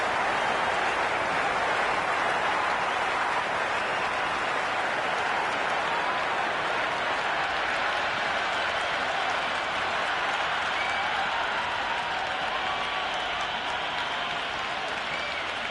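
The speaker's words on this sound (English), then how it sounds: "The spectators are absolutely buzzing right now." In the Cricket 26 video game, a stadium crowd keeps up steady, even applause from start to finish, a dense wash of clapping at moderate level with no clear peaks.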